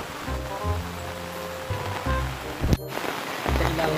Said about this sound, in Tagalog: Panay ang putput na ulan na.